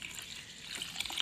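Water pours into a gram flour batter being mixed for Punjabi kadhi, a soft, steady splashing and trickling that stays faint and close, with no talking.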